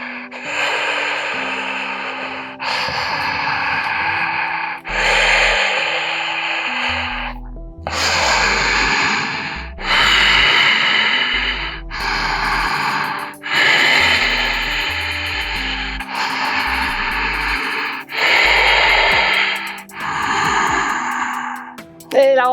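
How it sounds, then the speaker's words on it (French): Deep, rhythmic breathing from someone doing a yoga core workout comes as long drawn-out exhales, roughly ten strong breaths repeating steadily. Each breath is loud and close, with brief pauses between them. "La respiration pour vous accompagner."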